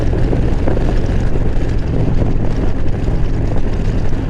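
LiveWire electric motorcycle accelerating on a 55 mph road, heard as a steady, loud rush of wind and road roar that holds without a break throughout.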